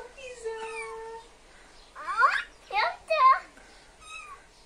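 A cat meows several times, clear, close and fairly loud, with a couple of longer, strained, yowling cries, while a voice talks in between.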